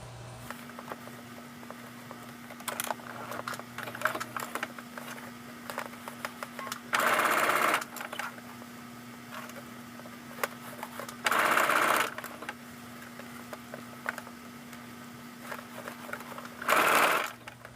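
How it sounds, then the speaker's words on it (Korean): Domestic sewing machine fitted with a piping foot stitching fabric along a basting line, three loud bursts of running stitches a few seconds apart, separated by quiet handling noises. "원단 뒤쪽에 타이핑을 시침했던 재봉선이 보이기 때문에 이 재봉선을 따라서 재봉하셔도 됩니다"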